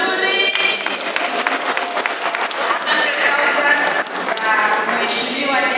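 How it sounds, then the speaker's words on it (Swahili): A crowd at a public event at Mumias Cultural Center applauds loudly, a thick, sustained roar of clapping with some voices mixed in beneath it. "Makofi mazuri."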